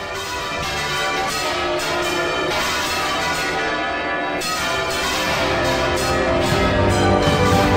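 Church bells tolling, a dense, loud, continuous ringing wash of overlapping metallic peals that swells slightly toward the end, with no voices over it.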